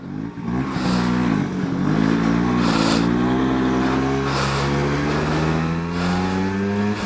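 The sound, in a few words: 1979 Vespa P200E 200cc 2-stroke scooter engine running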